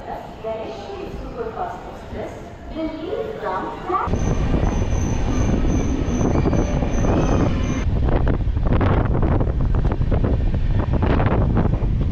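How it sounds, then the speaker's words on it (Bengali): A voice talks briefly before the Lucknow–Mumbai Pushpak Express rushes past near a Mumbai suburban platform, bringing a loud, steady roar of wheels and rattling carriages with a high squeal and wind buffeting the microphone. "লখনৌ মুম্বাই পুষ্পক এক্সপ্রেস।"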